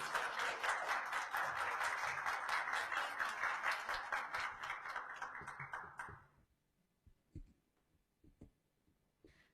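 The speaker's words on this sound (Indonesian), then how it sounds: "kita berikan tepuk tangan yang meriah sekali kepada produk trainer kita, Ibu Cucut Erma Wijayanti." A seated audience at an indoor product presentation claps loudly and continuously for about six seconds. The applause then fades out, leaving a few faint taps and knocks.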